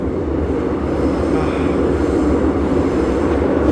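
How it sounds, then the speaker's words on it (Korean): Inside a moving subway train, a loud, constant low rumble and rushing noise fills the car without letup. "지금 지하철에서 시끄럽고요"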